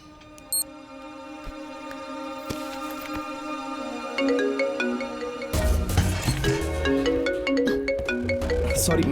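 A mobile phone ringtone plays in a scene from a Hindi-dubbed crime film, opening with sparse tones and swelling into a fuller, looping electronic melody that keeps ringing and grows louder.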